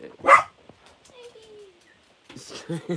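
A single sharp dog bark sounds up close, followed by quiet chirps and then a short burst of people talking.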